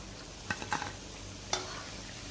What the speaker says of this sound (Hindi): मीडियम फ्लेम के ऊपर हमने पकोड़े फ्राई कर लिए हैं।